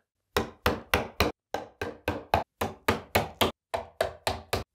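Plastic dowels are driven into the back panel of an IKEA Pax wardrobe with a hammer, giving about fifteen sharp, close knocks in quick groups of three to four with short pauses between them.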